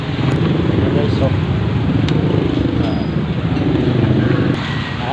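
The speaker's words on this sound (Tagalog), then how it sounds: "Buhol-buhol na ang sasakyan." Traffic jammed on a rainy road makes a loud, dense wash of engine rumble from cars and motorcycles close by, a continuous steady roar with people talking over it.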